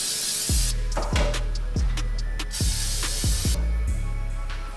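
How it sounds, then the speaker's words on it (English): Aerosol canola oil cooking spray hits a pan in short bursts, each a sharp hissing spray with a puff at the start, about six quick squirts in a row, close and loud. "So we're gonna bring our pan to the side and spray it down."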